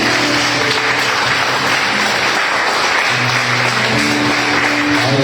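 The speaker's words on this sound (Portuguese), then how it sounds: "quem pode dar um forte aplauso ao Senhor nessa noite?" A church congregation claps together during a Sunday worship service, a steady dense wash of applause that holds for the whole stretch with a faint murmur of music or voices beneath it.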